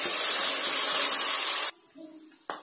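Onions fry in a pan over a medium flame, making a loud, steady, broad sizzle for a second and a half that drops off suddenly to quiet, faint crackling.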